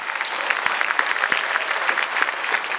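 A high school graduation audience breaks into sustained applause, a dense wash of many hands clapping at a steady level from start to finish.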